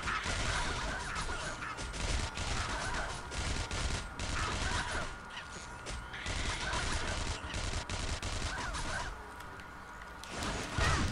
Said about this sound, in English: And Gatling gun you all to death.